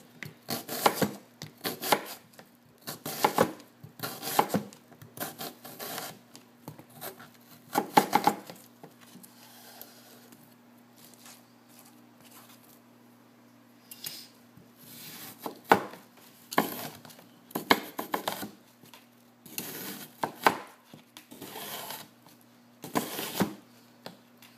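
A knife chopping a whole onion on a board for cooking cabbage, crisp rhythmic cuts in quick runs separated by short pauses, close and clear in a quiet room.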